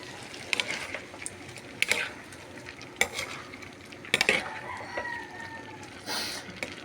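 Bottle gourd and zucchini with egg and tuna flakes sautéing in a pan, a soft sizzle broken by several sharp scraping stirs and clinks, with a rooster crowing faintly in the background.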